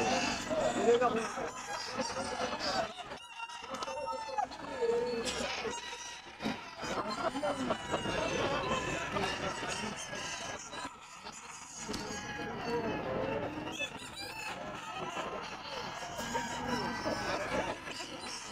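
Roosters and chickens at a Sunday pet market in a grotto, clucks and crows scattered through a dense, busy background with car horns, under steady talk from people nearby.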